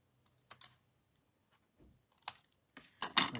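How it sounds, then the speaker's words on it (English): Snips cutting through paper card during a stamping craft project: a few crisp, close snips spaced irregularly, the last ones louder and quicker. "And then I want to cut this end"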